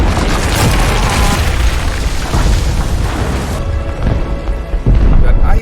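A city is destroyed by a massive explosion in a Resident Evil film, a loud sustained roaring boom with rumbling blasts that thins out toward the end before one more heavy burst.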